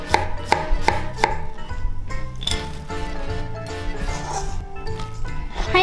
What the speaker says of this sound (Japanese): ズッキーニみじん切りにすると可愛いんですよね